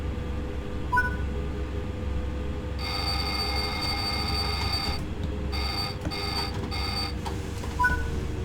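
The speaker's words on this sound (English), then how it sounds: "When the alarm sounds, apply braking until the train speed has reduced below the current restriction." In the train cab of Train Sim World 5, on the Zwolle–Groningen line, the ATB speed warning alarm rings as a loud insistent electronic bell, first steady for about two seconds, then in short repeated pulses over a low rumbling engine drone.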